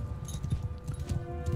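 Cavalry horses galloping in the Mount & Blade II Bannerlord video game make a steady rumbling clatter of many hooves, moderately loud and continuous, with battle ambience underneath.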